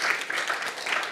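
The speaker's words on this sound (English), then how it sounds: "Round of applause." Applause from an audience at a business conference stage event, a short, soft burst of scattered clapping heard from a distance.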